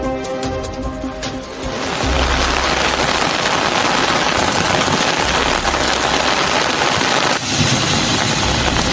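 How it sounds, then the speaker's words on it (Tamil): Sudden heavy rain driven by wind over Pudukkottai town: a dense, steady roar of downpour that rises abruptly after a brief quieter opening and holds loud and unbroken to the end. "புதுக்கோட்டை நகர்ப்பகுதியில் திடீரென்று காற்றுடன் பெய்த அடைமழை."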